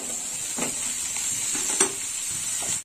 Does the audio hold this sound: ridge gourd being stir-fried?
yes